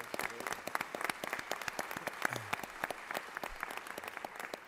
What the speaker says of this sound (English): So can we give them one more round of applause?